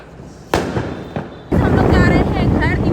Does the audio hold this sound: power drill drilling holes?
no